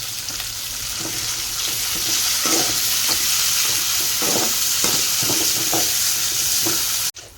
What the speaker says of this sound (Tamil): வெங்காயம் நல்லா வதங்கினதுக்கப்புறம் தக்காளி கொஞ்சம் ஆட் பண்ணிக்கிறேன்.